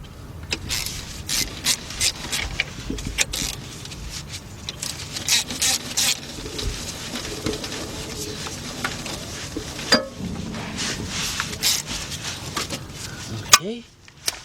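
A ratchet works a bolt loose under a 1977 Buick LeSabre with a 5.7 engine, sounding as close clicking and scraping bursts of metal over several seconds, with a person's voice heard in the background.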